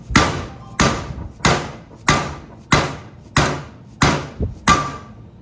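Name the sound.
hammering wheel bearing seating into aluminum hub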